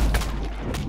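Gunfire in the open-world game Watch Dogs 2, a short burst of loud, booming shots in quick succession.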